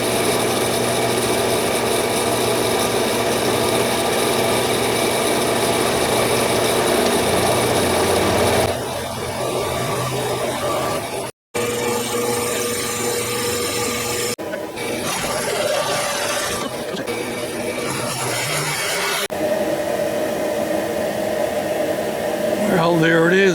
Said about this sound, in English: So what I'm going to do is I'm going to drill this out as big as I can